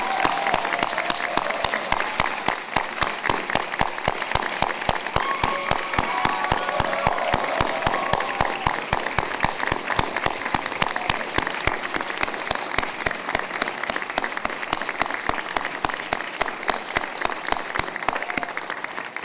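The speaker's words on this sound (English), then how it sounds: "Please join me in a very big round of applause to the faculty, staff, and faculty emeriti of Phillips Academy" A commencement audience at Phillips Academy gives a long, loud round of applause for faculty, staff and faculty emeriti. It is sustained dense clapping from a large crowd, steady throughout with a few sharper claps standing out near the front.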